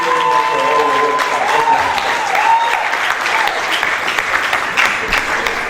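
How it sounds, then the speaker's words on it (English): A seated audience at a geography alumni lecture and award ceremony gives a sustained round of applause for their staff advisor, dense clapping filling the room alone from start to finish. "Please, I want us to give a very sound round of applause to our staff advisor."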